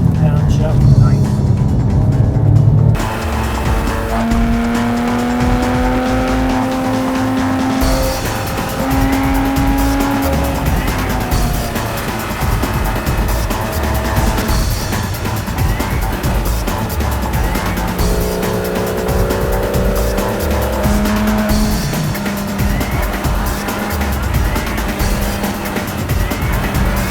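A Porsche 911 GT3 on a racetrack brakes repeatedly and heel-toe downshifts, its engine pitch dropping and rising with sharp throttle blips, tires squealing at times, while an instructor talks over the steady cabin roar.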